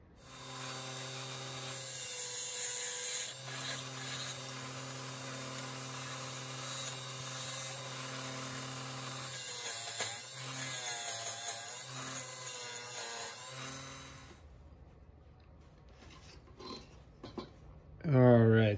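Steady whirring of a wood lathe with a tool scraping and cutting into spinning figured maple while hollowing a bud vase, continuous and close, then the machine winds down.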